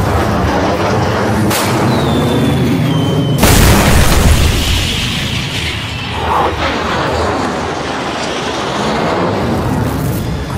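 A rocket fitted with a proximity fuse detonates in an anime aerial battle. A loud boom bursts out, trailed by a short high whistle, then a second heavy blast, and a long rumbling roar of explosions and debris follows.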